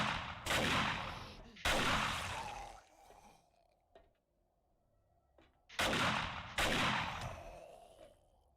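Shotgun blasts against zombies in the video game 7 Days to Die: two loud booming shots close together, a quieter stretch with faint ticks, then two more heavy shots in quick succession.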